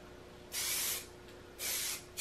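Two sustained bursts of aerosol spray paint hissing from a can onto a Mazda Miata, each about half a second, with a third short burst starting at the end.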